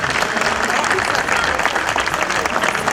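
A congregation applauds loudly to welcome Jesus the King at a Feast of Christ the King Sunday Mass, a dense, continuous roar of many hands clapping together, filling the hall without a break.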